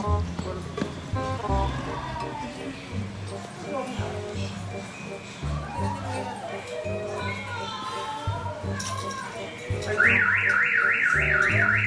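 A car alarm begins near the end with a loud, fast rising and falling electronic wail, after a stretch of busy talk and clatter. People speak throughout.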